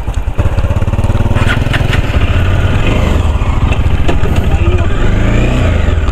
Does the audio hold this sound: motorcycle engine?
yes